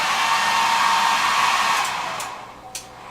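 A hair dryer blows to dry a wet brush, a loud, steady close whooshing drone that slowly fades and drops away near the end, followed by a faint click.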